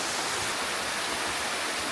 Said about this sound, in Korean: 오른쪽이 청룡 폭포라고 하네요.